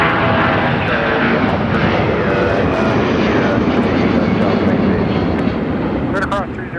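Loud, steady roar of a heavy jet airliner on the ground at Minneapolis–St. Paul airport, a broad continuous engine rumble with a faint whine, while air traffic radio talk runs over it.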